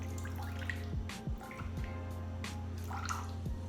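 Room-temperature water poured into a sourdough starter, giving a few soft drips and trickles over a steady low hum.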